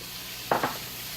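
Onions, peppers and spinach turning golden in a pan, with two quick stirring scrapes over a faint background sizzle.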